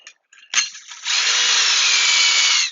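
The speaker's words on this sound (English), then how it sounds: "we'll take the stainless steel self-drilling and tapping screws that were included, and we'll use the P3 bit that's included" A power drill with a P3 bit drives a stainless steel self-drilling screw, a brief rev and bump followed by a loud, close, sustained whir of more than a second and a half before cutting off.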